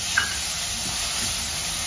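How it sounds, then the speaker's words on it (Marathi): Finely chopped onion sizzles quietly in hot oil with gram flour in a pan for chole, a soft, steady frying hiss with no voices. "आता त्याच्यामध्ये हा बारीक केलेला कांदा मी टाकते,"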